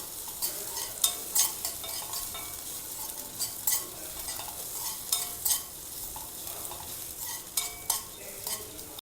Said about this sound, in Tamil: அதில் கொஞ்சம் பச்சை மிளகா இஞ்சி அப்புறம் கருவேப்பிலை போட்டு மிக்ஸ் பண்ணிக்கலாம்